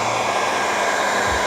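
A Dyson hair dryer blows hot air to heat a vinyl hood stamp, giving a steady, loud whooshing hum that runs unbroken throughout, with a brief low bump near the end and no voices.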